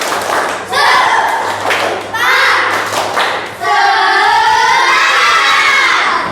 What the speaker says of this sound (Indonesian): Coba sekali lagi, yang lebih keras. Coba tepuk semangat.